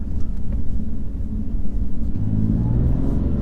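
A BMW M3 Competition engine drones steadily with a deep exhaust rumble, rising slightly in pitch toward the end as it revs a little.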